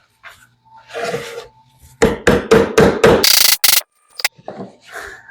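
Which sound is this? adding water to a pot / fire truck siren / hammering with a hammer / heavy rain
hammering with a hammer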